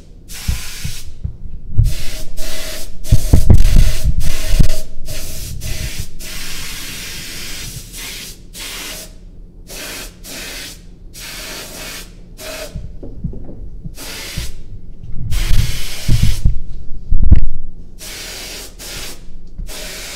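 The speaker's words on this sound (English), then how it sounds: "time to spray" Pottery being spray glazed with a sprayer: loud, close bursts of broadband hissing spray, starting and stopping repeatedly with short gaps, over a low mechanical hum, with no talk.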